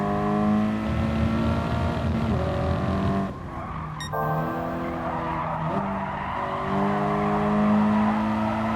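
In Gran Turismo Sport, a race car engine holds a loud, high harmonic whine, dipping as it brakes with tire squeal mid-corner, then climbing again, with other cars audible close by.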